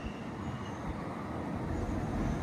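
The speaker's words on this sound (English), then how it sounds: "Right, here's our train." A steady, broad rumble of a train arriving at a station between Mytholmroyd and Littleborough rolls by nearby, continuous and even with no distinct horn or voices.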